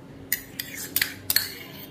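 Metal spoon clinking against a bowl while batter is added to chicken: four or five quick, bright close taps in uneven rhythm over a quiet background.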